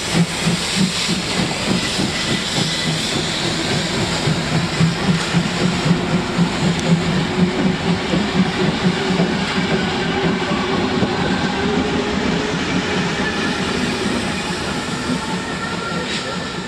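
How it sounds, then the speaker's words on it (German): A P8 steam locomotive and a V100 diesel locomotive pull away together with three passenger cars toward Hausach in the Black Forest, giving a steady rumbling roar with hissing steam and rhythmic chuffing that stays loud and close throughout. "Kurze Zeit später startet die V100 als Vorspannlok zusammen mit der P8 und drei Personenwagen in Richtung Hausach."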